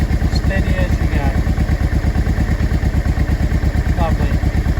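A 2005 Honda NT650V motorcycle idles at about 1,000 rpm with a steady, loud, close thumping beat, a tuned carburetor engine running evenly throughout.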